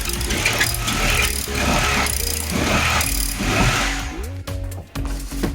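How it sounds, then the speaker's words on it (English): A power drill boring through the back of a wall socket, a loud steady whining grind that runs continuously with slight speed changes, then stutters in short bursts near the end. "just drill through the back of this socket, and wherever it pops out is where the socket's going to land basically"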